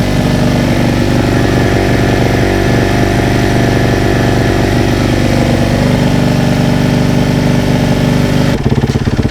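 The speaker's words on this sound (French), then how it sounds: "Prenez votre temps, laissez chauffer la moto tranquillement." A used enduro motorcycle idles as it warms up from a cold start, a steady, loud, close engine putter with a slightly uneven beat that holds for about nine seconds before cutting off sharply near the end.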